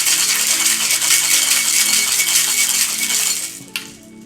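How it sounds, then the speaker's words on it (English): Ice rattles hard and fast inside a metal shaking tin as a cocktail is whip shaken for several seconds, loud and close, then stops with a final clink. "I'm gonna whip shake for about 5 to 8 seconds."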